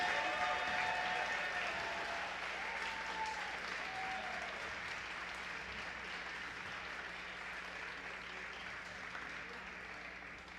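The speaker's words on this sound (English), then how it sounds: "Let's have one more rousing round of applause for our seniors." Crowd in a gym at a girls' high school basketball game gives a sustained round of applause for the senior players, broad clapping that slowly thins and fades over about ten seconds, with faint voices mixed in.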